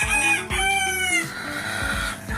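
Backyard chickens at feeding time crow and cluck nearby, a rooster's drawn-out crows in the first half giving way to busy overlapping clucks, loud and close with no talking.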